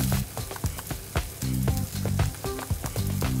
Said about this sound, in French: On les fait revenir 2-3 minutes à la poêle.